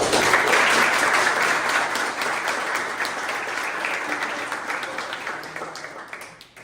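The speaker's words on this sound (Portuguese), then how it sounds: "Uma salva de palmas." A group gathered for a school interview with a teacher breaks into a loud, dense round of applause that holds steady and then tapers off at the end.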